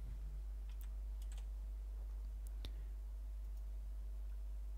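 Computer keyboard typing in quiet steady bursts of key clicks, a few taps at a time, under a low background hum.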